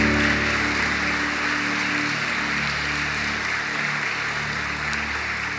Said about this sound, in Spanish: ¿Cuántos pueden dar un fuerte aplauso a nuestro Dios?